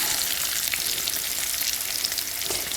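Loud, dense sizzling of meat frying in hot pork fat in a pan, constant crackle close up with no voices.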